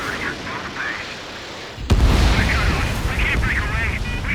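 A missile launch and loud blast in Ace Combat 7 while flying an F-14 Tomcat, a sharp burst followed by a sustained roaring rumble, with radio chatter and warning tones throughout.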